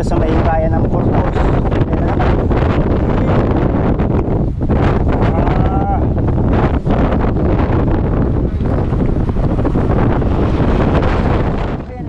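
Very strong night wind in Burgos, Ilocos Norte roars and buffets the microphone continuously, loud and close, a dense rumbling gust noise with brief faint tonal traces under it.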